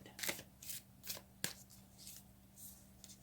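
Tarot cards being shuffled by hand and a card drawn, soft close riffling bursts in several short bursts with a sharp snap midway, quiet and without speech.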